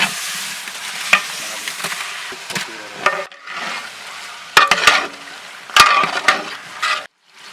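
Cleaned mutton sizzles loudly as it fries in a pot for biryani, with steady hissing broken by scraping, clattering strokes of a stirring utensil, close up, and a brief drop near the end.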